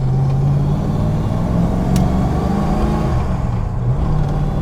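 A 1979 Cobra with an upgraded exhaust drives along, its engine droning loud and close with a rising and falling rumble as it revs, and nobody speaks.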